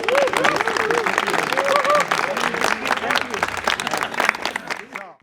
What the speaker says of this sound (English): so we can let's give them a round of applause